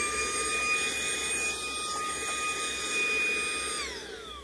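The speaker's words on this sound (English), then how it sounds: "vacuum to have, and it's very powerful on the camera, but it did vacuum up a lot of things" A small handheld vacuum cleaner runs at a steady, whining pitch close up, loud and continuous with no one talking, its tone shifting slightly near the end.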